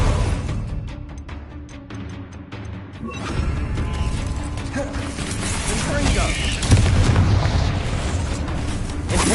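A Confringo fire spell blasting in Hogwarts Legacy during a duel: a rumbling burst rises into sustained booming, crackling noise with busy combat sounds, while a voice calls out spells.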